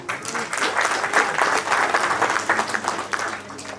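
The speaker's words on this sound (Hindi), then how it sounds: "बहुत जोरदार तालियां बजा दें।" Vigorous audience applause at a Saifi Day book launch gathering, dense and continuous clapping from a crowd that fills the whole stretch at fairly close range.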